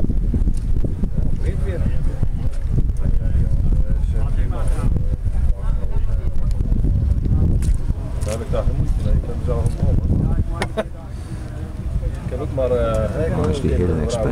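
A Suzuki GTR 750 racing motorcycle's loud, raspy two-stroke expansion-chamber exhaust drones steadily, its pitch rising and falling as it revs, with heavy wind buffeting the microphone throughout.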